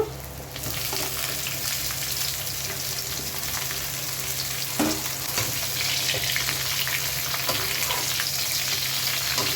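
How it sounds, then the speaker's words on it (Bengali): Cauliflower florets frying in a pan with browned onions give a loud, continuous sizzle, with occasional stirring clatter and scrapes breaking through the steady crackle. "এবার আমি এর মধ্যে ফুলকপিগুলো দিয়ে দেব।"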